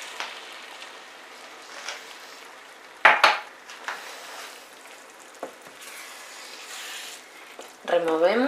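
A spoon stirs couscous and broth in a pot over medium heat, with clear metallic clinks and scraping against the pot's sides, a louder knock near the middle, and a brief voice-like sound at the end.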